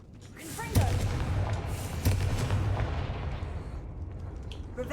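A Confringo fire spell blasts in Hogwarts Legacy, a sudden loud burst followed by a second explosive crack about a second later, each trailing into a rumbling, crackling tail that fades toward the end.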